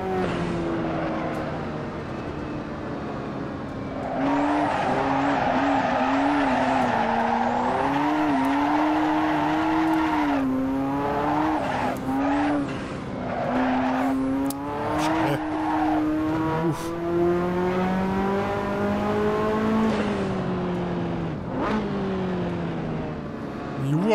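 A Ferrari F40 turbocharged engine racing in Assetto Corsa: a loud, steady revving roar climbing and falling through gear changes, with whooshing turbo tones and brief tire squeals, someone speaking faintly beneath it.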